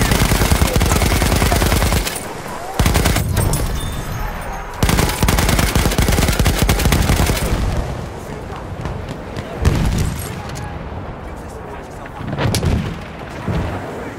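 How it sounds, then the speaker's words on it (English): Heavy automatic gunfire in a war video game, dense bursts of machine gun and artillery-like booms that come and go in waves, with brief lulls and game voice chatter underneath. "Enemy machine gun! Run."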